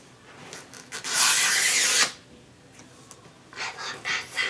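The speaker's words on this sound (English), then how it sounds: "we're just gonna start ripping into it" Cardboard and plastic packaging on a new iMac is torn open, one loud rough ripping burst followed by quieter scraping and rustling of wrapping.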